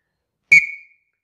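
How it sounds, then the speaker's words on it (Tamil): A scout whistle gives a single sharp, loud blast that tails off quickly, alone against silence. "இது ஷார்ட் பிளாஸ்ட் இது லாங் பிளாஸ்ட்"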